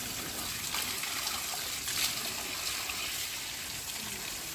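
Water being poured onto potted plants, a soft continuous trickle and splash at a fairly low, even level, close by and heard on its own without speech.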